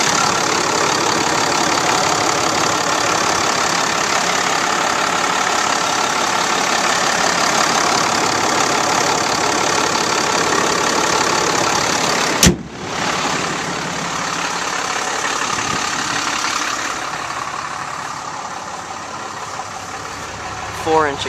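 A 2012 Dodge Ram 3500 with a 6.7 Cummins turbo diesel and four-inch exhaust idles steadily and loudly up close, with a sharp click partway through, after which the engine drone continues slightly quieter.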